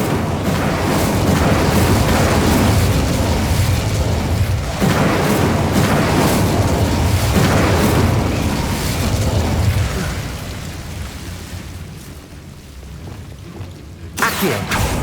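A loud, roaring burst of game spell fire from Hogwarts Legacy, the Incendio fire spell cast in combat, sustained and dense for about ten seconds before easing into a quieter rumble and a final sharp flare.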